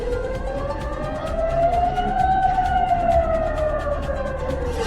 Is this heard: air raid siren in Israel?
yes